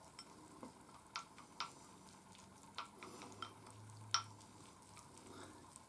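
Natto mixture being mixed into a baby sardine jako salad: faint, sporadic soft clicks and sticky squishes of utensils in a bowl, close and quiet, no talking.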